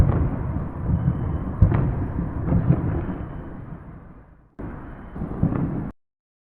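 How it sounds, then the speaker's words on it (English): Deep rumbling explosions roll out in a long booming wash with sharp cracks, fade, then another blast erupts before cutting off abruptly. "Visual confirmation of explosions confirmed"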